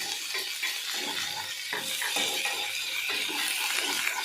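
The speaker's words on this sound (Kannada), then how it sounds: "ಸೊ ಟೊಮೆಟೊನೂ ಒಂದು ಸ್ವಲ್ಪ ಫ್ರೈ ಮಾಡ್ಕೋಬೇಕು" Tomatoes frying in a pan for paneer butter masala: a steady, close, bright sizzle runs throughout, with scattered stirring and utensil clinks scraping against the pan.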